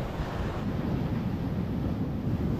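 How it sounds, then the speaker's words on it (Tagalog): Strong ocean waves break on a Palawan shore during popper fishing, a continuous loud low rumble of surf mixed with heavy wind buffeting the microphone, with no voices heard. "Lakas ng alon eh. Bigla-biglang lumalaki yung alon mga master."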